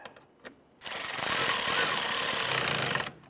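A power driver snugs a screw into a fog light bracket on a 2011-2019 Ford Explorer, making one steady high-pitched whir of about two seconds that begins and ends abruptly, with brief clicks before it.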